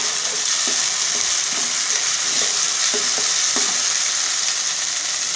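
Spices and ginger-coriander-garlic paste frying steadily in a pan for a fish curry, giving a loud, continuous sizzle with soft, regular stirring scrapes throughout.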